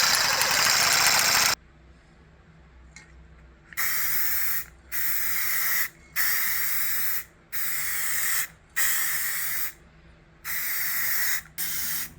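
Aerosol spray paint hisses in a series of short, even bursts as wheels from a Chevrolet C20 pickup are painted, each spray lasting about a second with brief pauses between, preceded by a longer continuous blast.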